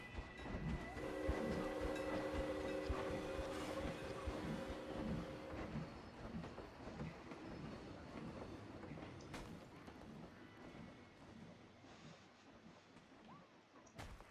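A train rolls along its track in the Planet Coaster theme-park game, a steady rumbling run with a long held tone early on, continuing for the whole stretch at moderate level without talk.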